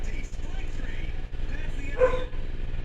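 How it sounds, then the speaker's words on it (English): A dog barks intermittently somewhere in the background of a room, short muffled yaps under steady indoor noise and a faint electronic hum. "My apologies if you can hear my dog barking in the background."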